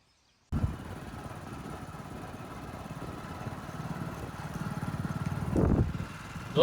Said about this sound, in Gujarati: આપણે બાઇકની સફરે નીકળી ગયા છે.